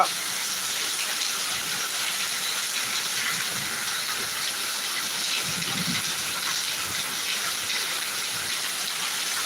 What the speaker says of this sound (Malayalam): നല്ലൊരു വെട്ടിക്കെട്ട മഴ കേട്ടോ